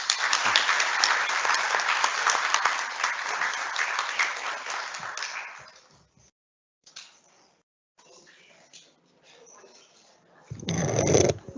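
A round of applause at a Nurses' Day 2023 ceremony: sustained crowd clapping for about six seconds that fades out, followed by a quiet room with faint voices and a short loud burst at the end.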